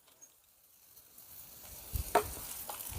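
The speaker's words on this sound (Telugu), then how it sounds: "ఇప్పుడు ఈ జాయింట్లు కూడా బొగ్గుల మీద పడిచామండి, బాగా కాలుతాయి" Spiced chicken joints roasting directly on burning charcoal, giving a soft sizzle and crackle that starts faint and grows a little, with a few sharper pops near the end.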